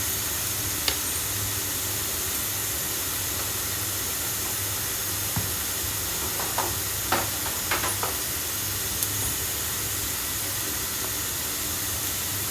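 Cauliflower sautéing in a pan for a masala, a steady close sizzle and hiss with occasional small clicks and scrapes of stirring, no voices.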